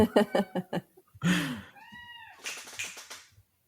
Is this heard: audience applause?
no